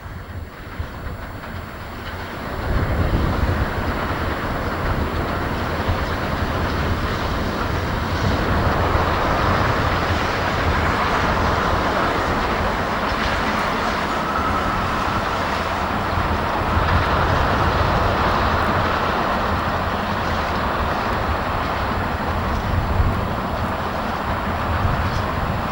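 A Henschel-built steam locomotive from 1922 pulling a train on the narrow-gauge Esquel line in Patagonia, a sustained loud rolling rumble and clatter that builds within seconds and holds steady throughout.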